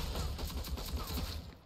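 Rapid, continuous gunfire in the online shooter Rogue Company, dense overlapping shots and bursts sustained throughout, loud and close with no pauses.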